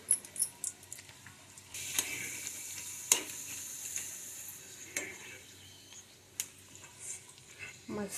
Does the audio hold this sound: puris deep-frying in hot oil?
yes